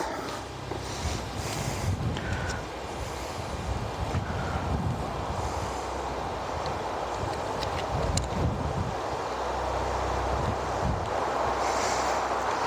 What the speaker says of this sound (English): It's a little bit windy today, so you guys are going to hear some of that.